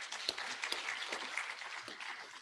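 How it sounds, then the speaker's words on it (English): Scattered clapping from an audience greeting graduates at a Kenya School of Government ceremony, a brief patter of applause heard from a distance without speech. "Give them a clap."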